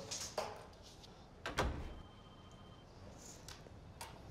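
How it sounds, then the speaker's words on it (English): A door closes indoors with a soft, muffled thud among faint movement sounds in a quiet room, followed by lighter scattered knocks and shuffles. "Shut the door."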